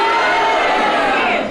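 A live audience at a JAM debate show roars together in a dense, loud crowd noise, likely booing, sustained for about a second and a half without a break.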